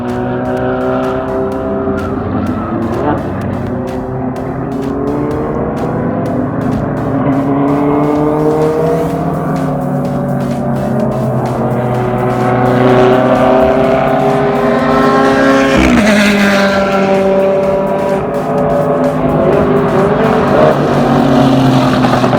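A race car laps the Las Vegas Motor Speedway track, its engine droning loud and close with rising and falling pitch through gear changes and acceleration, a sharp shift near the middle, sustained throughout with no speech.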